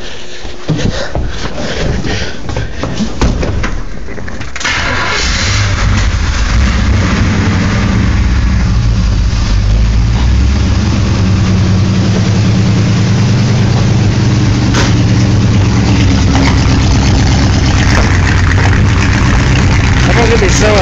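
A Chevrolet C10 truck engine with old gas and a carburetor needing a rebuild sputters at first, then settles into a steady, loud rumbling idle close by, while someone talks over it.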